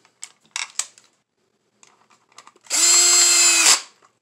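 A power drill drives retention screws into a holster: a few light clicks and handling taps, then one loud, close whirring burst lasting about a second before it stops.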